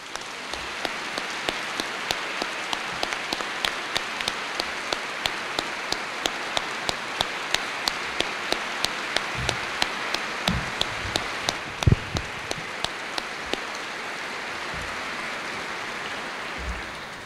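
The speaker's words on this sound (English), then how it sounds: "a round of applause for Lieutenant General Ricky Rupp and the Rupp" Rapid, even crackle of applause for a lieutenant general and his family at an Air Force change of command ceremony, carried through with a steady regular tick and a few low thumps near the end.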